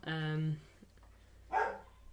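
A dog barking indoors, heard as two loud, close barks about a second apart, the first long and harmonic, the second shorter and sharper, with little else around them.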